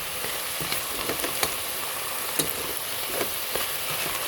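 Food frying in a home cooking pan while being stirred, a continuous close sizzle punctuated by irregular clicks and scrapes of the utensil against the pan.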